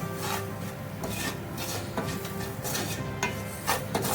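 Ragi flour being sautéed for about a minute in a pan, a steady close scraping and rubbing rasp with repeated stirring strokes and no talk.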